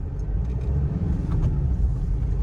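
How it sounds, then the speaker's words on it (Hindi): A Kia Seltos pulls away from a standstill in first gear with a steady low engine rumble and road noise heard from inside the cabin, constant and moderately loud, with faint clicks above it. "मैंने लगाया फर्स्ट गियर और गाड़ी पिक करी"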